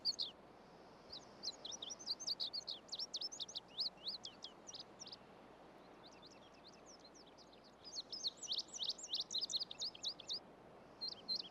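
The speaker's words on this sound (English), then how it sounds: "Birdsong was the first music ever heard by human ears." Spring birdsong in the wild: a chorus of high, quick chirps and trills in repeated bursts over a steady faint background hiss, with a pause mid-way before the singing resumes.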